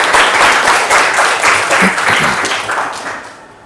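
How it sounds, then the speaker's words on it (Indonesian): An audience claps and applauds for a few seconds, a dense, fairly loud wash of clapping that swells early and then tapers off, with a few faint voices mixed in. "beri aplaus untuk kita semua."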